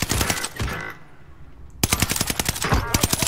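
Rapid automatic gunfire from a video game weapon, loud and close, in two dense bursts of sharp repeated shots separated by a short lull, with faint voices in the mix.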